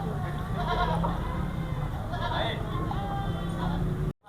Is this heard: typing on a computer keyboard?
no